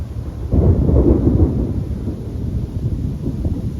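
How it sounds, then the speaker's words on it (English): A thunderstorm with deep rolling thunder over a steady wash of rain, loud and close at first, then easing into a continuous rumble and patter that fills the whole stretch with no voices. "Yeah, this is a great storm."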